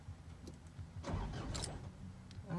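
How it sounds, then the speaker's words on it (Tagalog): A car engine cranks and tries to start, a loud grinding turnover that swells after a quiet, rustling opening and runs for over a second, ending in a whining rise near the close. "buhayin mo na yung sasakyan para habang hinihintay natin sila, napapainit na natin"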